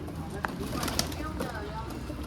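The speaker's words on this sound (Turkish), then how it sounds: "Çıkıyor kuşlar çıkıyor." Racing pigeons leaving their loft in a home garden, with soft wing flaps and faint cooing amid the birds, heard under background chatter and nearby voices.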